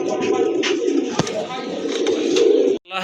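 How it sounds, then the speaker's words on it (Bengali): Black racer pigeons for sale at a market, cooing in low, soft throbbing calls from nearby, continuous through the clip with brief sharper chirps and background bustle, ending in a sudden cut. "আরেক জোড়া কবুতর রেসার কবুতর, ব্ল্যাক রেসার কবুতর"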